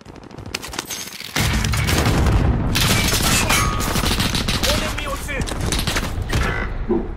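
Rapid automatic gunfire from an M4A1 rifle with no stock in the shooter game Warzone, season 5, loud sustained bursts rattling nonstop after a quieter opening, with voices talking underneath.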